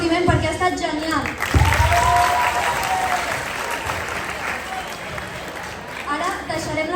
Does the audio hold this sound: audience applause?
yes